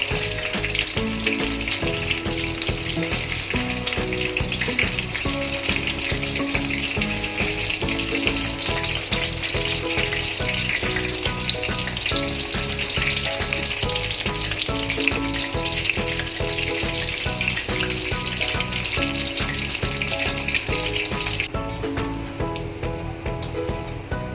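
Soybean chunks deep-frying in hot oil give a steady, dense sizzle that runs unbroken throughout, with background music playing over it.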